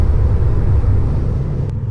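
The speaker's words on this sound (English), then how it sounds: "there is noise from the tires for sure" Steady road and tire roar inside a Tesla Model 3 Standard Plus cruising on the highway, a constant low rumble with a faint hiss on top and no talking.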